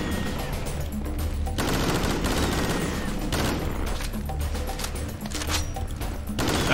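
Submachine gun in Serious Sam 3: BFE firing in long, dense automatic bursts, loud and close, with brief pauses between volleys over a rumbling game background.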